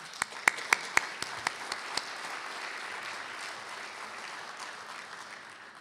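Audience applause for competition finalists at a closing session, a few sharp individual claps at the start merging into a steady, moderately loud wash of clapping.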